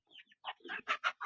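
A few chickens clucking up close on a hot day, a string of short bursts that grows busier toward the end.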